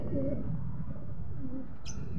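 Pigeons cooing close by in soft, repeated low warbling calls, steady and continuous with a brief higher rustle near the end.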